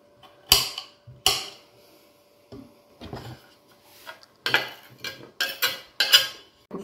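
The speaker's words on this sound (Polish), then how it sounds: "Muszę papryki pokroić." Bell peppers are sliced with a knife on a kitchen board, giving sharp, close chopping taps in uneven bursts, with a few quiet gaps before a quicker run of cuts toward the end.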